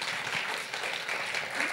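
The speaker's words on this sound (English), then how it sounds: "Let's give Siri a huge round of applause." An audience claps for a speaker at a talk on advancing women in the global talent arena, a dense and even wash of applause lasting throughout the moment.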